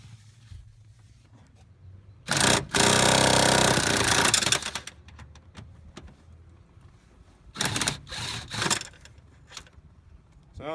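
A wobble-extension 14mm socket on a ratchet or power driver backs out brake booster bolts during a dual-diaphragm booster and master cylinder swap, giving two loud bursts of grinding, rattling mechanical noise separated by quieter clicks and shuffling.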